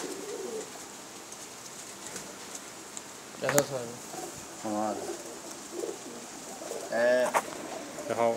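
Kasuri pigeons coo in a few soft, rolling bursts spaced over several seconds, close by, against a faint steady background hiss.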